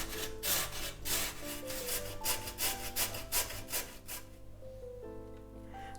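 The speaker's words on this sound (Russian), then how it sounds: "Картошку потру на средней терке." Two potatoes grated on a medium grater for a potato dish: quick, rhythmic rasping strokes repeat close by over soft background music, stopping near the end.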